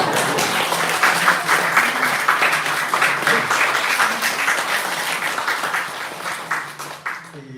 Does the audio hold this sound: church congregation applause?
yes